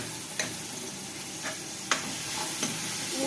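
Masala sautéing in a pan sizzles and fries with a steady crackling hiss, while a few faint clicks and stirring taps sound through it, near and moderately loud.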